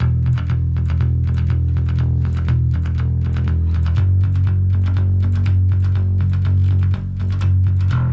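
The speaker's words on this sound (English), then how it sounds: "So essentially a gallop sounds something like this." Heavy distorted bass chugs a galloping metal rhythm, rapid repeated triplet-like pulses on low notes, driving and steady, loud with no voices.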